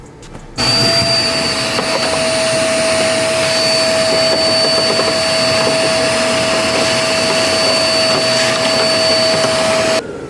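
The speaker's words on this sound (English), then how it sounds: "Let's take the vacuum cleaner now." A vacuum cleaner switches on and runs with a loud, steady whine and roar close by during an Alpine A110R service, then cuts off near the end.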